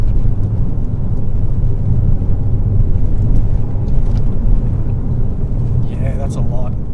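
Ford Fiesta ST with a stage 2 remap accelerating hard out of a corner in third gear, a loud, steady low engine roar filling the cabin with wind and road noise.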